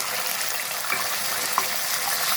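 Chicken goes into a pot of whole garam masala frying in oil, giving a steady, moderately close sizzle with a brief clatter as the pieces land.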